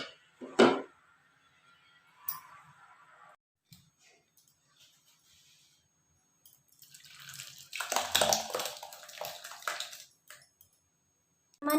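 Homemade chhena (cottage cheese) being rinsed in plain water during rasmalai preparation, giving brief close splashes and squishes: a sharp burst near the start, a smaller one later, then a longer sloshing stretch of handling, with quiet pauses between.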